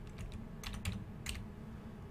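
Keys tapped on a computer keyboard during a Dwarf Fortress session, a few quick clusters of light clicks close by over a low steady hum, with no talking.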